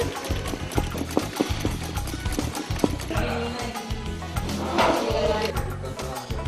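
Sewing machine stitching embroidery in a batik and tailoring workshop in Kabanjahe, Tanah Karo, running as a steady, fast mechanical chatter with a dense clattering rhythm throughout, fairly close and continuous.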